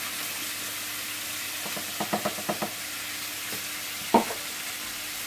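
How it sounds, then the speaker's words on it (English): Chopped onion and browned beef sizzle gently in a pan for a hearty yam stew, with a cluster of spoon scrapes and taps in the middle and one sharper knock near the end, no talking. "I'm now going to add an onion that I've already chopped. Add that in."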